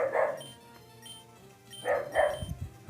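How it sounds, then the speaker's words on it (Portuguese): Street dogs bark in two short bursts, one at the start and a louder double bark near the end, with a quiet stretch between and no talking. "Ah, mas que tanto late."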